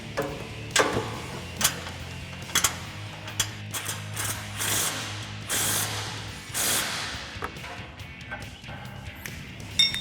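A cordless impact tool drives an 18 mm bumper bolt down on a 2016-2022 Toyota Tacoma with a Barricade HD stubby front bumper, giving several close, loud bursts of rapid hammering and ratcheting clatter with short pauses between them.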